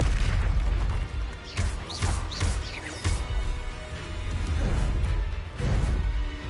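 Blasting-spell explosions from the Hogwarts Legacy video game go off repeatedly, with several heavy booms and bursts in quick succession over a rumbling, crashing background of game effects.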